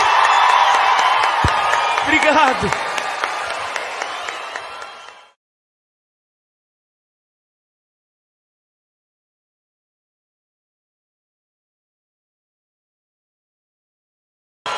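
A concert crowd at a 40th-anniversary show cheering and clapping loudly for about five seconds, with a voice speaking over the noise, before it cuts abruptly to silence.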